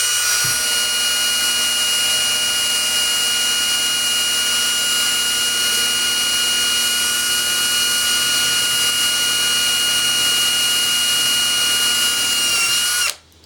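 Power drill boring a hole in an RC axle for an SCX10 front axle build, a loud steady high-pitched whine running continuously for about thirteen seconds before cutting off abruptly at the end.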